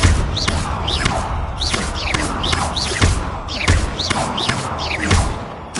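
Repeated Confringo spell casts in the video game Hogwarts Legacy: a run of about nine sharp whooshing blasts with thudding impacts, loud and close, coming at a steady, rapid rhythm.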